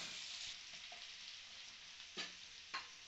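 Chopped onion and garlic with cumin sizzling in hot oil in a pan, a soft steady fry with a couple of brief stirring clinks, quiet and close.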